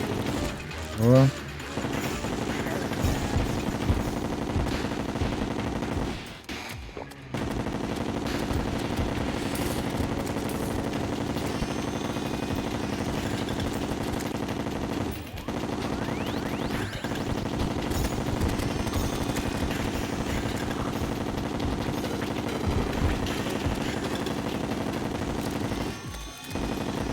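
Rapid gunfire from the video game Terraria, repeated bursts and fusillades rattling on almost continuously, with a few short pauses between volleys amid other in-game noise.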